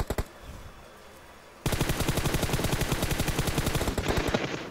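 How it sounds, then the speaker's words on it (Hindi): Gunfire in PUBG Mobile: a few sharp shots, then a brief lull, followed by a long, rapid automatic burst of evenly spaced, loud reports that continues to the end. "हाँ भाई तुम पहले फायरिंग दे दो"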